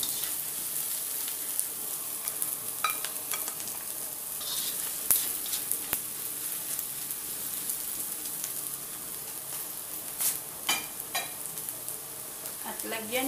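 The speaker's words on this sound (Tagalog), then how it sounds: "Fry lang natin siya hanggang lumabas yung bango." Dried prawns fry in a pan with a steady close sizzle and crackle, plus occasional scraping stirs, and almost no talking over it.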